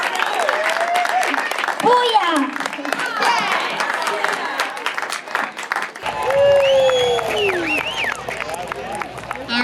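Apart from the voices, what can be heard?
audience applause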